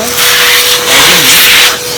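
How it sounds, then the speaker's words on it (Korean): A small handheld vacuum cleaner sucks leftover coffee grounds out of an Anfim manual coffee grinder, its steady whining hum running close and loud throughout, with the pitch shifting slightly as the nozzle moves. "청소기로 완전히 흡입을 해서 정리를 해주시고요"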